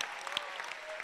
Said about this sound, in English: Clap your hands for Jesus and you may be seated.